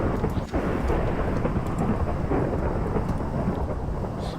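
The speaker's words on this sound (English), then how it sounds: "there's a mod that turns up the amount of thunder strikes that are going on" Thunder and rain in modded Minecraft: a steady, loud downpour hiss with rolling rumbles of thunder beneath it, continuous for the whole stretch with no voices.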